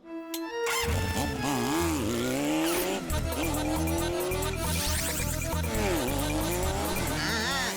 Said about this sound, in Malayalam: ഹണി, അത് വളരെ ഹെവി ആയിട്ടുള്ള ബൈക്കാ. നിനക്ക് കൺട്രോൾ ചെയ്യാൻ പറ്റില്ല.